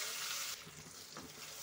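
Ground peanut and green chili paste hits hot oil in a pan for a gavran-style drumstick pod bhaji, giving a close, steady frying sizzle with stirring scrapes and no talk.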